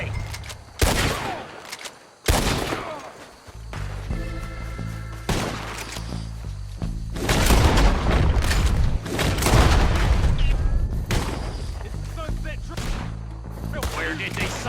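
A gunfight in Red Dead Redemption 2: repeated sharp gunshots crack in irregular bursts and volleys over a low rumbling backdrop, some shots close and loud, with rapid fusillades in the middle.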